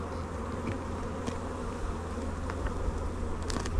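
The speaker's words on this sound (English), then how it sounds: "all these bees used to be super aggressive until they was split" Honey bees swarm and buzz steadily around an opened hive during a demaree split, a dense continuous drone close to the ear with individual insects flying past, no talking.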